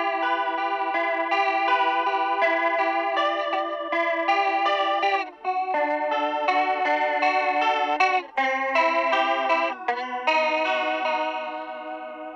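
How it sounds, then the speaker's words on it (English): Electric guitar played through a chorus pedal, a shimmering, slightly distorted melody of sustained notes and chords that rings continuously and alone, loud and close with a few brief gaps between phrases. "So here's one I made up with the chorus pedal."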